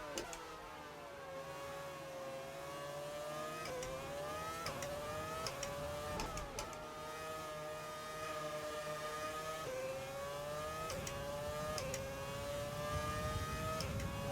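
An F1 2020 race car engine gives a high, strained whine that climbs steadily through the gears, with each upshift dropping the pitch in a sharp step, repeated several times over a long, continuous run.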